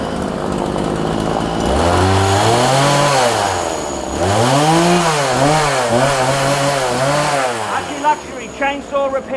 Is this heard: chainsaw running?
yes